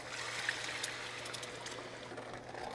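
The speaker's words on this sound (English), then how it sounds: "we're going to add our reserved broth" Reserved broth pours into a shrimp boil pot, a soft continuous trickling splash held at a low level with a faint steady hum beneath, no talk.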